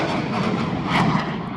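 Military jet looping through an airshow display in Paris, a loud, broad, sustained engine roar that swells slightly over a brief moment.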